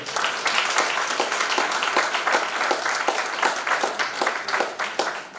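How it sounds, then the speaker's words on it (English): Audience at a university event on open and distance learning breaks into applause, a full, even roar of many clapping hands sustained loudly throughout with no speech over it. "I want you to give them another round of applause again"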